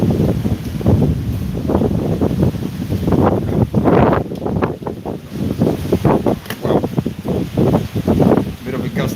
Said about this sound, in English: Bit of a gust coming in.